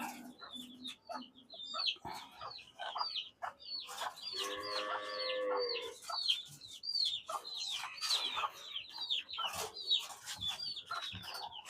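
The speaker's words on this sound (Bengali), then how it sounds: "মুরগির কাম হইলো খাওয়া দাওয়া আর হইলো হাঁটা চলাচল।" Chickens cluck repeatedly in short, close bursts, with a louder drawn-out squawk in the middle and scattered rustling around a village home, no talking.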